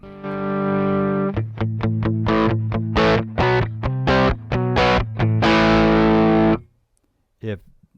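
Electric guitar through a Tech 21 FlyRig 5 v2 with heavy overdrive distortion plays chunky chords and a stuttering rhythmic riff, loud and close, ending in a sustained chord.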